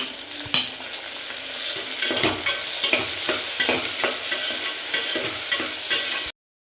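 Green chilli and tomato fry in a pan for chicken biryani, a close, steady sizzle broken by repeated scraping and stirring strokes of a spoon against the metal.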